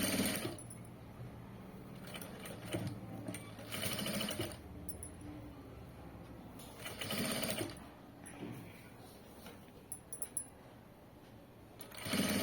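Short, close bursts of a sewing machine stitching lace onto a neckline, three or four runs separated by pauses filled with handling of fabric and small clicks.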